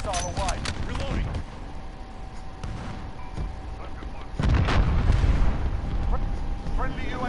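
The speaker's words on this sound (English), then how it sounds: "Allied cruise missile away" Cruise missile strike in a Call of Duty match, a heavy booming impact rolling out midway through, over scattered gunfire and game effects while a player talks.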